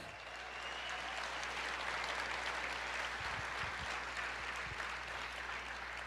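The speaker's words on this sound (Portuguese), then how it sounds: "Você pode aplaudir o Senhor" A church congregation applauds in a full sanctuary, a loud, steady wash of clapping that fills all six seconds without a break, over a low electrical hum.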